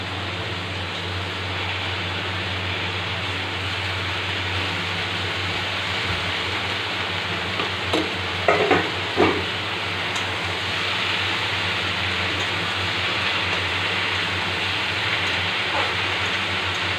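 Spinach sizzles as it fries in a pan with fried eggplant and potato, giving a steady hissing sizzle throughout with a few brief clatters partway through.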